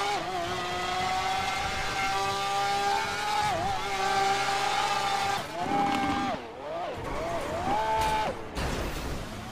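A car drives and accelerates with a sustained engine drone whose pitch rises and dips as it revs, loud and close throughout, with a brief drop in level partway through.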